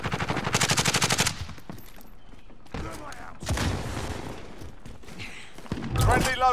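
A sharp burst of rapid machine-gun fire in Call of Duty: Modern Warfare opens the passage. Thuds and further shots follow, with a voice talking in between.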